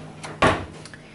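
A kitchen drawer slides open or shut with a single sharp wooden knock, followed by a couple of faint lighter clicks in a quiet room.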